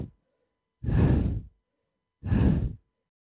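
A narrator imitates labored breathing with two slow, heavy, breathy exhales like sighs, each about half a second long with a pause between them, close and clear against silence.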